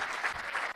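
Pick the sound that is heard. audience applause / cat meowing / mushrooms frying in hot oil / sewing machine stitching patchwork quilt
audience applause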